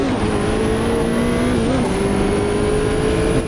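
Race car engine in a racing sim video game driven with a Fanatec ClubSport manual shifter, a steady loud drone holding one pitch with a brief dip near the middle as the car rolls out slowly.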